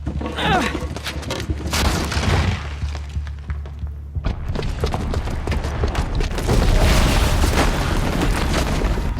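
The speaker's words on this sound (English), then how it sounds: "the booby trap on the bomb downstairs is gonna get set off" A booby-trapped bomb goes off in the Horizon Zero Dawn video game, with loud booming blasts and rumbling debris at the start, then continued crashing and chaotic game action after a brief pause.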